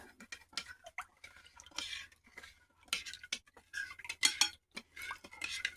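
A spoon stirring salmon brine in a bowl, with irregular clinks and scrapes of metal against the container in uneven bursts, close up and without talk.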